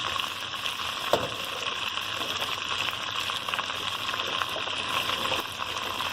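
Chopped vegetables (capsicum, onion, carrot) sizzling and frying in a hot pan for a chicken shashlik dish, a continuous hiss with a brief clatter near the start, no talk.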